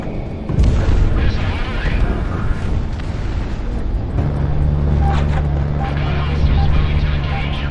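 Heavy volley rocket explosions in the combat flight game Project Wingman, striking a large target: several deep booms over a continuous low roar, followed by a steady droning engine hum.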